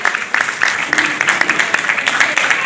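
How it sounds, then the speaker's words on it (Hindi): An indoor audience at an office-bearers' swearing-in ceremony claps steadily throughout, a dense patter of many hands, with a voice speaking over it. "तालियां बजा करके अपने आप को सम्मानित करेंगे।"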